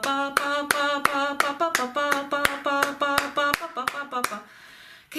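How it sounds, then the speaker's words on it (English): Hands clapping offbeats against a sung rhythm: sharp, evenly spaced claps between repeated vocal syllables, close and clear, with the voice carrying a melodic line throughout before trailing off near the end. "Can you tell I'm clapping offbeats?"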